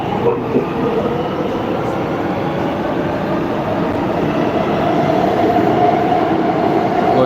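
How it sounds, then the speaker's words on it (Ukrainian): A Warsaw metro train runs underground with a loud, steady rumble and rolling roar that holds for several seconds, with faint rhythmic rail clatter inside the car and no voices. "так виглядає Варшавський метро."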